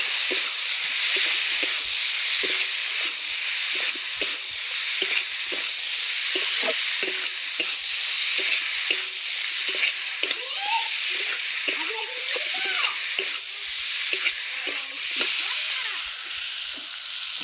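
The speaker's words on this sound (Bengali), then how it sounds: "মটর আলু সিদ্ধটা এর মধ্যে আমি দেবো। সামান্য নুন, ভালো করে আমি কষে নেব।" Boiled peas and potatoes fry in spice paste, giving a constant close sizzling hiss broken by frequent soft scrapes and taps of a stirring spoon.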